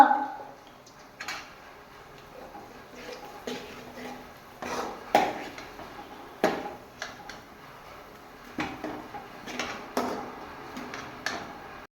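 A spoon scrapes and taps against a cooking pan while chili and turmeric powder are stirred in, giving irregular clinks and scrapes every second or two over a quiet background.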